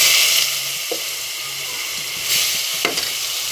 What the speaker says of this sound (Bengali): এখন আমি এখানে হালকা রঙের জন্য হলুদ দিয়ে দিচ্ছি, আর পেঁয়াজ কুচিটা দিয়ে দিচ্ছি